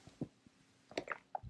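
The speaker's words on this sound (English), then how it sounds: "Let me take a sip of water first." A man takes a sip of water: a few quiet, close, wet slurps and mouth clicks spaced across a moment of near silence.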